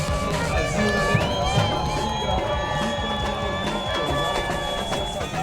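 Fans cheer and shout from shore as the Brazilian team's boat arrives for its final race at a sailing regatta in Rio, a busy distant crowd roar with whistles and scattered yells, continuous and moderately loud.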